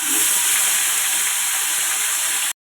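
Raw pumpkin goes into hot mustard oil already holding whole spices, dried lentil dumplings and asafoetida, giving a loud, steady, close hiss of sizzling that stops abruptly at the end, with no voices.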